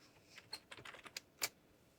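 Quick, uneven keystrokes on a computer keyboard as a username is typed, a handful of light clicks over about two seconds, fairly close, with one louder final key press and no talking.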